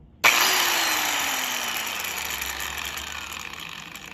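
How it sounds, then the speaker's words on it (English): A DeWalt 4.5-inch, 11 amp paddle-switch angle grinder switches on with a sharp start, then its motor whines steadily and loudly at close range as it spins up, with no talking. "You got to pull this back and then push this paddle down to turn it on."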